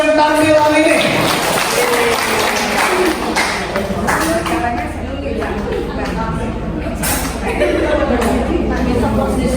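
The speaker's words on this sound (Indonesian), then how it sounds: "Tepuk tangan untuk" A crowd claps steadily and loudly at an education workshop, with chatter mixed into the dense applause the whole way through.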